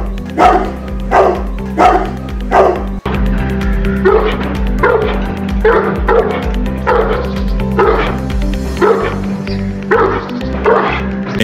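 Boerboel and English Mastiff dogs give deep, powerful barks, about ten in a steady, repeated rhythm, close and loud over a constant low musical drone.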